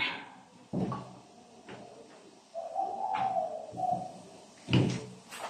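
A pigeon or dove coos outside near a home kitchen, giving a few soft, low coos at moderate distance amid scattered household knocks and clatter.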